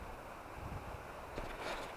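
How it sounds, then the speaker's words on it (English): Wind buffets the microphone beside a river, a steady low rumble with gusty swells and no talk. "It's a little bit windy today, so I apologize."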